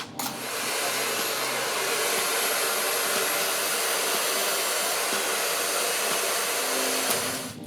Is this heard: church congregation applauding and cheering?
no